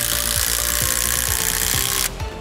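A Milwaukee M12 impact driver at speed 3 hammers a ledger-lock style engineered lag screw into a pre-drilled hole, a loud continuous rattling impact run that stops abruptly near the end.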